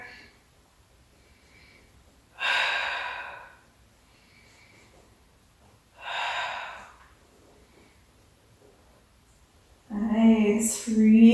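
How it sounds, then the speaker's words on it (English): Deep, slow breaths drawn during a spine corrector Pilates workout, two long airy exhales spaced several seconds apart in a quiet room, followed by a brief louder rustle at the end. "Breathing nice and deep."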